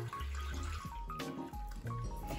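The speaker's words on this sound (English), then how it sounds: "We're gonna start out with 3 cups of water." Three cups of water being poured for homemade almond milk, a quiet continuous splashing and trickling of liquid into a container.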